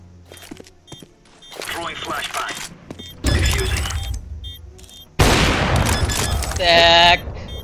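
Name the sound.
AWP sniper gunfire in video game CS:GO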